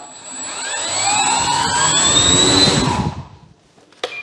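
Electric motor of a Dancing Wings Stick 14 RC airplane, 1.4 m wingspan, whining loudly up close with rising pitch under throttle, then spinning down and cutting off, followed by a short click.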